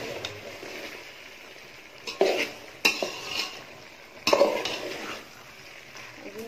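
Jackfruit pieces simmering with water in a pan, giving a low steady bubbling and soft sizzle with a few louder clinks and stirring scrapes of a utensil against the pan.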